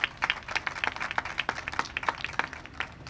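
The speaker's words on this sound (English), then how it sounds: "let's give a round of applause to Paul Adler." Audience applause at a groundbreaking ceremony for a transit-oriented housing development in New York: a round of scattered hand claps with sharp, uneven slaps, moderately close and fairly faint, with no talking.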